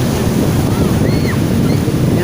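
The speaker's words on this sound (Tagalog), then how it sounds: "So narito po tayo sa tabing dagat" Waves breaking on a beach at Tando Beach Resort in Infanta, Quezon, heard as a loud, steady wash of surf mixed with wind buffeting the microphone.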